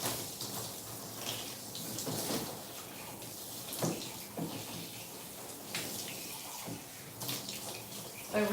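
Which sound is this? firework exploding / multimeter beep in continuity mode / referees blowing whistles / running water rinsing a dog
running water rinsing a dog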